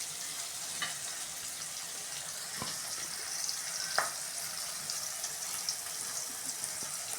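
Ingredients for a Sankara fish curry sauté in a pan, heard as a faint, steady sizzle with a few sharp scrapes and taps of stirring, quiet and unaccompanied by talk.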